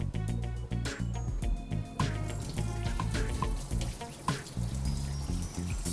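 Tap water running while zucchini and asparagus are washed in a kitchen, a continuous splashing flow with intermittent clatters and knocks of handling over it.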